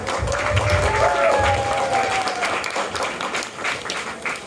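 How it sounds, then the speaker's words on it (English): Audience applause at a science-of-politics talk in New York, a steady wash of clapping from a crowd that holds for several seconds and slowly tapers, with some voices mixed underneath. "let's give him a warm round of applause"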